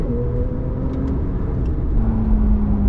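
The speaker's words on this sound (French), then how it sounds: "L'échappement sport fait vraiment la différence." A steady, deep engine drone from a Porsche 911 GTS or 4S with sports exhaust, a low rumbling exhaust note holding constant throughout, loud and close.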